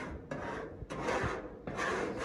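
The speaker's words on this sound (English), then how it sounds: "scraping away at this panel and I'm trying to remove any of the last little bit of glue or fabric residue" Scraper rasping glue and fabric residue off a panel, three close rough scraping strokes in a steady back-and-forth rhythm, alone without talk.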